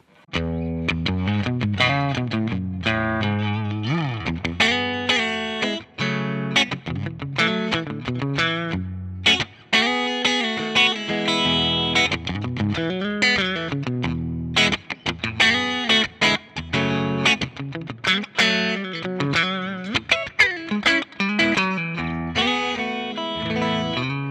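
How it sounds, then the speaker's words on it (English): Electric guitar played through a clean amp with spring reverb, strummed chords and picked notes ringing out continuously with a wet, splashy tail. "this is just my 65 Deluxe, and it's going through a Fender Deluxe sounding cab with some spring reverb"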